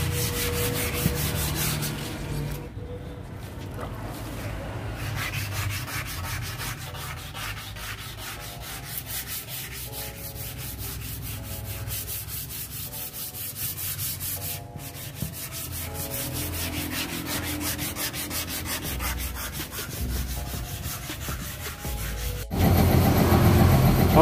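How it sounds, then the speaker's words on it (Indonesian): Steady abrasive rubbing of sandpaper on the metal body panel of a 1982 Vespa PS150 scooter, continuous and close, with a low engine-like hum underneath and a louder burst near the end. "sekarang kita lanjut dulu amplas semua sampai beres"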